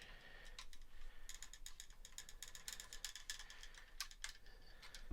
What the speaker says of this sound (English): we'll put a nice shiny screw right in there